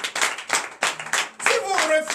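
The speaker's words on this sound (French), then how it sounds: "Donnez l'acclamation à notre Seigneur Jésus." A church congregation at a night deliverance service claps in acclamation, a few rhythmic bursts of hand claps close by, with voices rising over the later claps.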